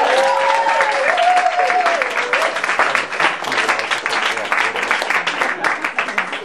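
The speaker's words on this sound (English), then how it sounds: "Can you start by giving a round of applause to the folks who've organized and hosted this?" A crowd at a Young Democrats kick-off event applauds the organizers and hosts, a thick, sustained clapping that carries on throughout, with a voice talking over the first moments.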